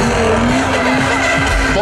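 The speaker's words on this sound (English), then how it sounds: "Driving the Legend race car. This is powered by the Yamaha 1200cc motorcycle engine." A Legend race car powered by a Yamaha 1200cc motorcycle engine screams loudly and continuously at a monster truck show, its high engine note mixed with tire squeal.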